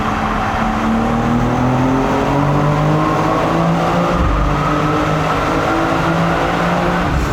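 A Mercedes S63 convertible engine and exhaust run loud and close, a steady deep roar whose pitch rises and falls as the car accelerates and shifts.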